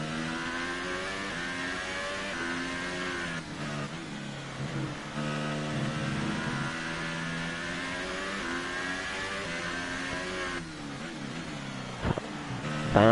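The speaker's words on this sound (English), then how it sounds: "we're just driving to the best of our ability" Formula 1 car engine from the F1 2018 racing game at the Russian circuit, a steady high-pitched revving whine with rising and falling pitch through gear shifts, loud and continuous with no talk.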